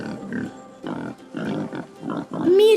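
A wild boar grunts in a series of five rhythmic, moderately loud bursts separated by short pauses, ending with a brief higher rising squeal-like tone.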